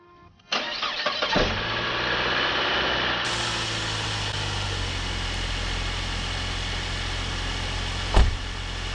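A rebuilt Saab 9-5 engine cranks and fires on its first start, catching quickly and settling into a steady, close idle that runs for several seconds, with a brief rise in the engine note near the end.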